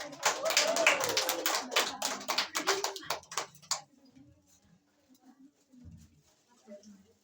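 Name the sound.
clapping for Mbak Wanda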